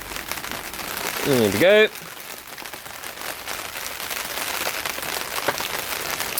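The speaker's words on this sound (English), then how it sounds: "You really can hear that rain." Steady rain patters down outside a garden potting area, a continuous soft hiss on surfaces throughout, with a brief voice and a short rattling clatter near the start.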